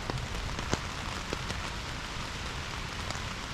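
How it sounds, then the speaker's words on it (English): Steady rain patters on a tent through the night on the Appalachian Trail, a dense continuous hiss with scattered sharper drops, close and even throughout. "Rain has started."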